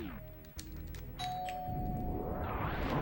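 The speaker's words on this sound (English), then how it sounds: "So yeah, sorry about the doorbell there." A doorbell rings at home during a Super Metroid randomizer race, its chime tones sounding clearly over ongoing game music and sound effects.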